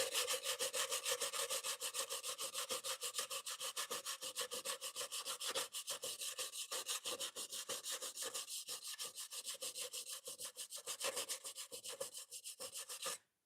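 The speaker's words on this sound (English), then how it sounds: "the sandpaper will help start to straighten out some of that edge" Sandpaper rubs back and forth across the metal edge of an air cleaner in fast, steady strokes, a close, dry rasping that runs continuously until it stops abruptly at the end.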